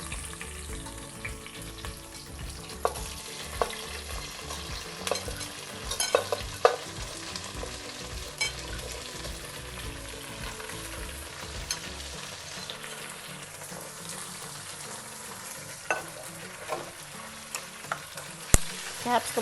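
Vegetable pieces tossed into a pan of browned onion slices for a Hyderabadi vegetable dum biryani sizzle and fry steadily, with occasional stirring scrapes and clinks throughout, close and without talk.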